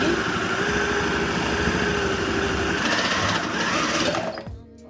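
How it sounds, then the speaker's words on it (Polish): A Braun Multi Quick 7 MQ7087 hand blender whirs steadily at a high, buzzing pitch while blending potato soup, its tone shifting slightly before it winds down and stops at the end. "Nasz blender bardzo fajnie i cicho chodzi."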